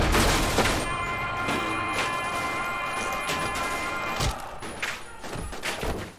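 Gunfire breaks out in a Battlestar Galactica scene, a loud sustained clatter of shots and thuds over a dense roaring background, with a few sharper bangs toward the end.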